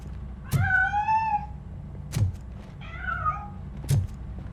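A cat in Robocop: Rogue City on PS5 gives two clear, drawn-out meows, separated by dull thuds, close and alone over a low ambient rumble.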